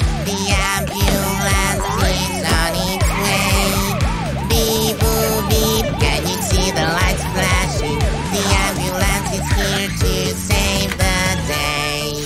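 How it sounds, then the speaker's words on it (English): Ambulance siren in a children's Halloween song, a loud wailing siren rising and falling repeatedly over the music with a beat underneath. "in the ambulance, Santa will take care of you."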